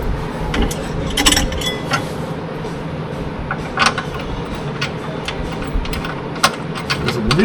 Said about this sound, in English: let's take these bolts out